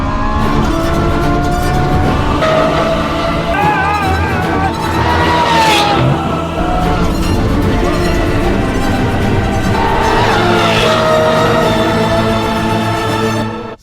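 A Lamborghini Revuelto on a fast track lap, engine roaring loudly and continuously through gear changes, with tires squealing as grip is lost in a couple of bursts; loud and close throughout.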